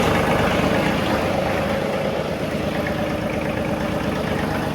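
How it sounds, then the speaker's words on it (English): A 3038E compact garden tractor idling in neutral on a farm, a steady, loud, close diesel rumble that holds even for the whole stretch with no talk. "so let's fire it up here. This is a 3038E garden tractor."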